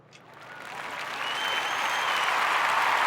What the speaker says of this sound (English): I'm going to insert a round of applause